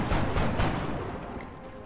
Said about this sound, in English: Oh, friggin' covering fire.